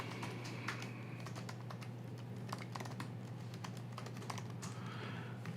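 Quiet, close keystrokes on a computer keyboard come in quick irregular bursts as an email address is typed, over a faint steady background hum.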